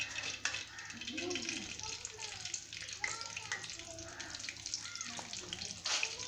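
Mutton pieces fry in hot ghee with a soft, steady sizzle and occasional crackles, fairly quiet, while a voice talks over it throughout.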